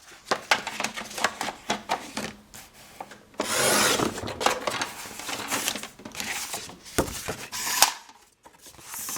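Paper being cut to trim 1.5 cm from an album page, with rough scraping, rasping strokes and crinkling bursts in irregular rhythm, close and fairly loud with short pauses between.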